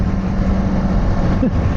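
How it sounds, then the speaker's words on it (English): A Kawasaki Z400 motorcycle engine runs in a loud, steady low drone throughout, mixed with broadband road or wind rush and no talk. "So the engine on this thing is good."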